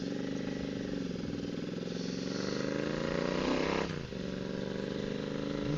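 A Royal Enfield motorcycle fitted with a DNA performance air filter pulls away, its engine note rising steadily through first gear, then a quick dip and recovery as it shifts, heard close and continuous.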